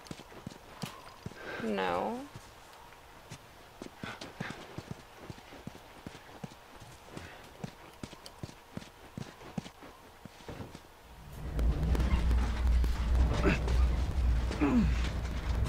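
Horse hooves clip-clop in The Last of Us game, a run of sparse steps under a neigh and spoken lines, then a louder stretch of movement with talk near the end.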